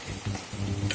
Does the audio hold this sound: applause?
no